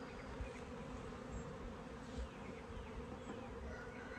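Honey bees buzz in a continuous, close, steady drone inside an open hive as its frames are handled, with no talk.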